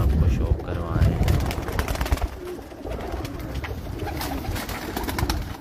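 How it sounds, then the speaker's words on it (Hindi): A flock of flying pigeons on a rooftop giving soft, low coos amid outdoor bustle, with someone talking close by for much of the stretch. "तो ये जी उनके परवाज़ी कबूतरी"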